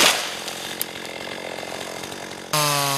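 Chainsaw felling trees during logging work, a loud buzzing whine that eases slightly while cutting, then revs sharply to a higher, strained pitch near the end.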